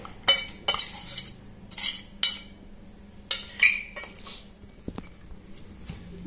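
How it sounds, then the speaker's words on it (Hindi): Spoon stirring semolina and powdered sugar in a metal bowl, with several scraping strokes and clinks against the bowl's sides in uneven bursts, close and moderately loud. "इसमें हम चीनी पाउडर को मिक्स करेंगे"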